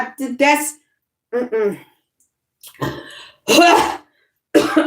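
A few sharp coughs and throat-clearing bursts in short clusters, close and fairly loud, separated by brief pauses.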